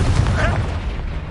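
The Confringo blasting spell in a video game lets off one short, loud, booming burst that fades quickly.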